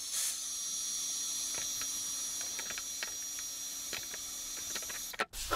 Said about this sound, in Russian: Берем парафин, берем нагревательный прибор, в моем случае это фен.